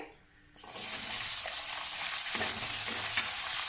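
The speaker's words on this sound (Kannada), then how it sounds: "ಇವಾಗ ಈರುಳ್ಳಿ ಹಾಕೋಬೇಕು ಇದಕ್ಕೆ" Chopped onions tipped into a pot of hot oil with whole spices for tomato mint rice burst into a loud, steady sizzle after a quiet start, crackling continuously with stirring.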